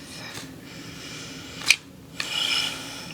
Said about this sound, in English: I'm just shuffling at the moment.